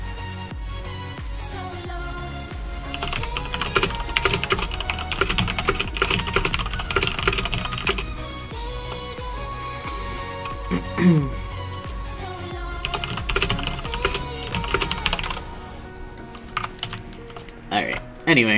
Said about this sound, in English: Yeah, I was typing.